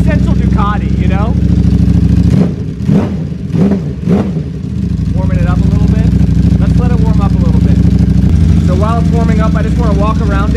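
A loud Ducati Panigale V4 SP engine with dry clutch and Termignoni race exhaust runs steadily throughout, with a few sharp revs in the middle; people talk over it near the start and end.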